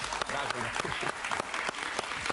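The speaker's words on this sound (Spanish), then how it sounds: "Un aplauso para él," A television interview audience applauds a guest, lively clapping with some voices mixed in, steady and fairly close throughout.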